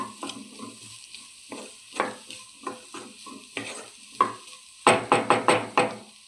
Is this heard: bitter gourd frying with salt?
yes